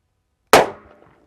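A single sharp, loud shot from a handgun with a 4-inch barrel firing hot 125-grain rounds, cracking after a moment of silence and followed by a brief decaying echo.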